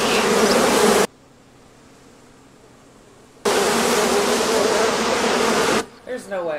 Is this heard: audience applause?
no